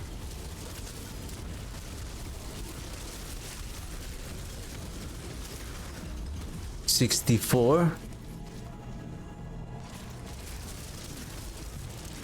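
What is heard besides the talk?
skeletons exploding from Ring of Mendeln, Diablo video game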